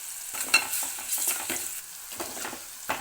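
Onions with coriander powder, ginger paste and salt sizzle and fry in a pan for brinjal curry, steady crackling with a few stirring scrapes of a spoon, close and fairly quiet.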